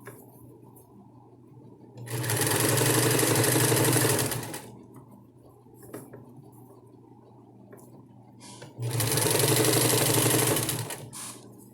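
Sewing machine stitching a double-sided diaper cover, two loud sustained bursts of rapid mechanical stitching separated by quiet pauses.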